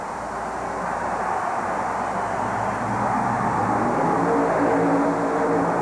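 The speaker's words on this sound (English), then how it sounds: "the Bad Habits Supercharged Chevrolet makes his bid" A supercharged Chevrolet truck called Bad Habits runs a dirt track at a 1991 USHRA event in Anaheim, its engine a loud, steady, far-off roar that builds slightly across the stretch.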